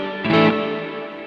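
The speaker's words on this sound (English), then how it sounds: "Have the reverb set really high, the mix, just to really hear what the reverb sounds like." An electric guitar runs through an Eventide Space reverb pedal on its room setting with the mix turned high, a strummed chord blooming into a wide, washy tail that slowly fades.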